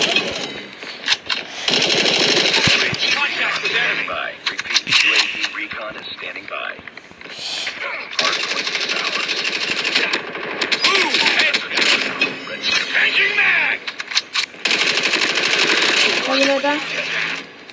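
Rapid automatic gunfire from the Call of Duty video game in a ranked match, loud bursts of rattling shots in repeated stretches, interleaved with a person talking.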